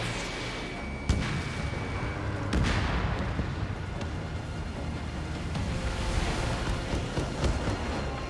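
Missile launch and explosions in the Ace Combat 7 video game: a continuous roaring rush with sharp booming hits, loud and dense throughout, no talk.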